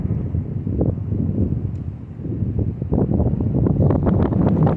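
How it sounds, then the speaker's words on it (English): Steady wind buffets the microphone, a low rumbling roar that swells and gusts throughout with no speech. "Pretty windy over here."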